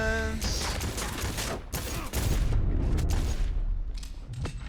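Heavy shotgun gunfire in the video game Cyberpunk 2077, played on very hard difficulty, with a rapid fusillade of booming blasts and loud low rumble that stay dense and close throughout, broken by a brief dip near the middle.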